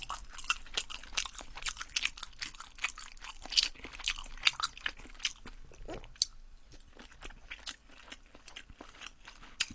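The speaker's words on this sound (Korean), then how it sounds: "야채 순대예요, 야채 순대. 토종 순대라고 많이 하는데 요거 먹겠습니다." Close, crunchy chewing and biting of Korean vegetable sundae, a blood sausage, in repeated soft bites with no talking.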